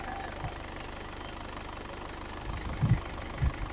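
An Isuzu Panther diesel engine idles after a test drive, a steady low rumble with a rhythmic clatter, close by, with a few louder thumps near the end and no speech.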